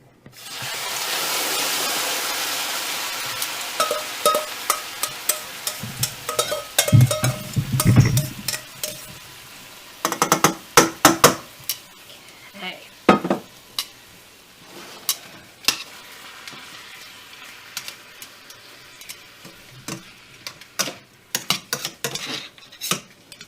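Marinated bone-in meat tips into a hot pan with a surging sizzle, then metal utensils clatter and scrape against the pan in repeated sharp knocks as it is stirred, close and loud over continuous frying.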